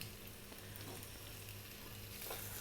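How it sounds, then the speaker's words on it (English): Pork ribs brown over gentle heat in a pan, a soft, steady sizzle that stays faint and even throughout, with no voices. "we're going to brown them here"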